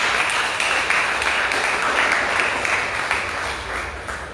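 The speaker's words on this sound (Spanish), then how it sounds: "un aplauso para ellos, por favor" An audience in Santa Cruz, Bolivia, applauds to welcome an arriving caravan at a religious gathering. Steady, full-room clapping holds, then fades slightly toward the end.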